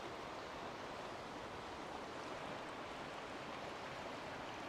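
River water flows in a steady, broadband rush outdoors, even and unchanging throughout, with no voices or other sounds over it.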